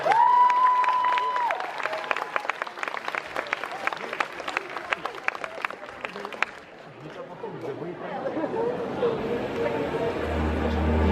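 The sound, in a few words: audience applauding cosplayer as Elaine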